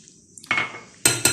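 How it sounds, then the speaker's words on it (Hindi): Half a cup of flour goes into a mixing bowl for chicken Manchurian batter, heard as a soft pour followed by two sharp clinks of a utensil against the bowl, close and fairly loud. "अब मैं इसमें डालूंगी ये हाफ कप मैदा।"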